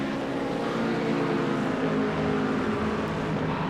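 GT3 race cars at Silverstone in a racing sim, heard from an external camera, give a continuous raspy engine roar that stays loud and dense throughout, with no talking over it.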